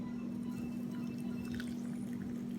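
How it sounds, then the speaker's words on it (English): Just-boiled water, about half a liter, pours steadily into a cup for tea, a faint continuous liquid stream over a low electrical hum, with no talking. "The water just finished boiling. I have half a liter in there. And then what you want to do is pour it."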